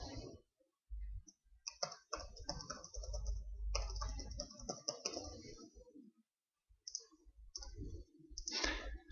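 Computer keyboard keys clatter in short bursts of quick typing with pauses between, close and moderately loud, with occasional clicks.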